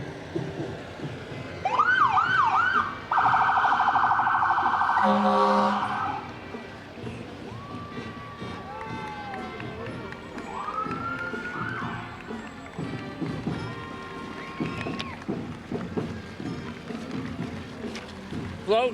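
Engine number 2 from Bradford, the newest fire truck in a fall foliage festival parade in Warner, wails its siren loud and close in rising and falling sweeps, then fades to softer distant yelps among street crowd noise and a voice on a loudspeaker.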